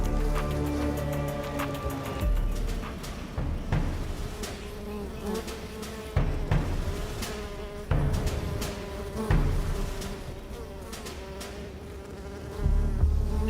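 Wild bees buzz steadily around a smoked hive in the open, a dense droning hum that fills the whole stretch, with occasional knocks and rustles nearby and no talk.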